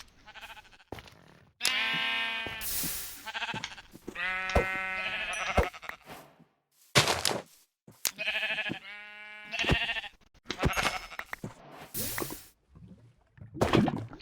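Sheep in the video game Minecraft bleat repeatedly, a series of wavering, nasal cries in clusters with short pauses between, moderately loud and near.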